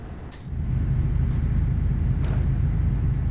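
Lorry or truck air brakes hiss in short sharp bursts three times over a steady low road rumble of traffic, heard from inside a moving car.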